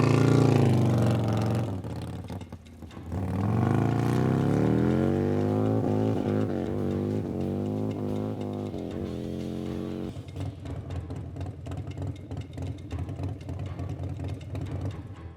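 A Harley-Davidson motorcycle on a high-speed run of about 175 mph roars loudly and close, revving up and shifting through gears with rising and falling engine pitch, then settling into a steady drone.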